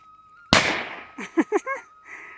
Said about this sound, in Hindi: तो एक पटाखा फोड़ा हरदीप ने यहाँ पे